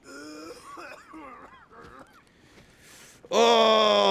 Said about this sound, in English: they're teasing it already with the coughing